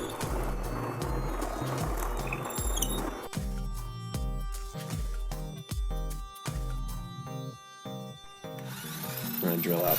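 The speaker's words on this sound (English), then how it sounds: "This Purple Heart is really a pain in the butt to drill." A power drill bores into a piece of Purple Heart wood in repeated short bursts, the motor whining and dropping as it works through the hard wood, with pauses between bursts.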